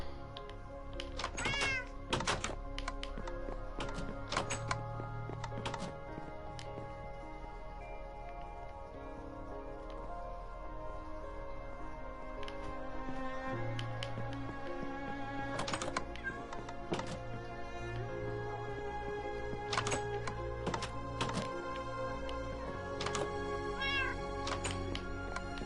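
A house cat meows again and again indoors, loud and close, while the owner coaxes her back into her room, with scattered knocks and clatter between the cries.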